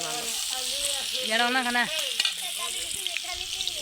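Egg and onion frying in a pan at an outdoor picnic cookout in a mango orchard, a steady close sizzle with stirring scrapes, while a voice talks briefly over it.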